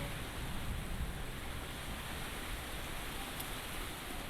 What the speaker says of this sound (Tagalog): Lakas ng ulan at saka may kasamang hangin.